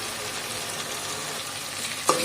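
Minced meat frying in a pan with salt, a dense, even sizzle up close, with a sharp clink of a utensil near the end and no voices.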